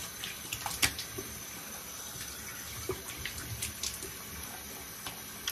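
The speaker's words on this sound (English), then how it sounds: "A little cold water." Cold water runs steadily from a tap into a bathroom sink during a wet shave, a continuous close splashing hiss with small irregular spatters and no talking.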